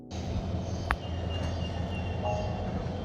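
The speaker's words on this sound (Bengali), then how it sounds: "ট্রেন চলা শুরু হয়ে গেছে।" A train begins to move at Cox's Bazar railway station in Bangladesh, giving a low continuous rumble and rolling hum with one brief sharp knock near the start, heard close and steady without speech.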